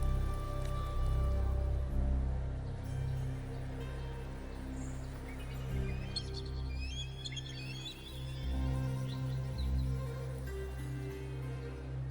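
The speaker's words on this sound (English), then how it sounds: "The rain is passing." Rain falls steadily in the video game Wuthering Waves, a soft, continuous patter layered over low ambient music, with faint bird chirps scattered through the quiet scene.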